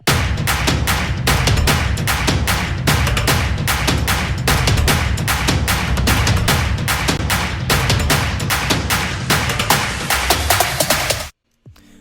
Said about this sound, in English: And then everything together, all of the build drums sound like this.